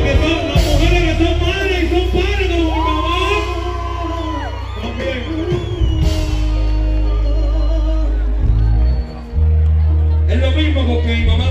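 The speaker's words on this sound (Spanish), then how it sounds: "yo quiero una bulla y un aplauso para todos los padres que se encuentran esta noche hoy" Concert crowd at a show cheering, whooping and yelling for parents, loud and sustained beneath someone talking over a microphone, swelling between his phrases.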